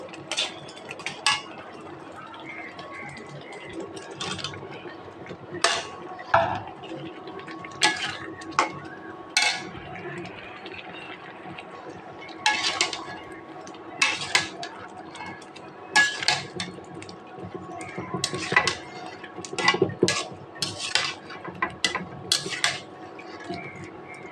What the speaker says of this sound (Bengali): একটা ভালো করে কষাইতে নেব ভালো করে কষাইতে